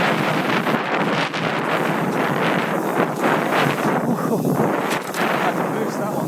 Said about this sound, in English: I've now decided there's too much of a headwind going this way